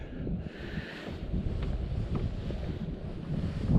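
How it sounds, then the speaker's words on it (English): Strong wind buffets the microphone out on the water during kayak fishing, a constant rough roar with faint lapping beneath it and no voices. "But this wind is killer. The wind is killing me, y'all."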